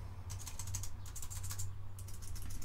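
Typing on a Matias space gray aluminum wireless keyboard for Mac, quiet close clusters of quick key clicks in short bursts over a low steady hum.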